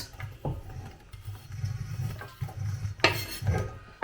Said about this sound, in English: I'm going to put all the vegetables into the pan